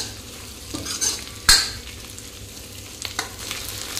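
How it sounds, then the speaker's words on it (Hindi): Onion and capsicum are stir-fried on high flame for restaurant-style chilli paneer, a steady sizzle broken by several sharp scrapes and clinks of a spatula against the pan, close up with no talking. "तो इसको भी थोड़ा सा हाई फ्लेम पे भूजेंगे, प्याज और शिमला मिर्च कच्चापन थोड़ा दूर हो जाए बस"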